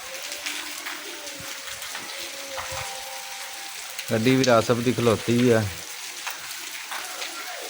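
Rain patters steadily on surfaces in a village, a soft continuous hiss with scattered drips, while someone speaks briefly midway over it.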